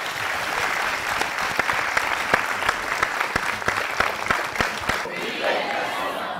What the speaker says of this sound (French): On ne peut pas le faire autrement qu'en applaudissant Faraban Magasuba.